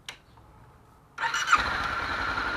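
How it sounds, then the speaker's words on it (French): A Honda CB 500 motorcycle engine starting after a brief click and quiet pause, the starter catching abruptly into a loud, steady idle with a short squeal, close by with no talk. "je mets mon moteur en marche"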